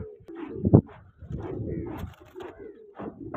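Pigeons, a colourful fancy breed kept by a hobbyist, coo close by in soft repeated low throaty phrases, with one louder burst early and some faint bird calls scattered around.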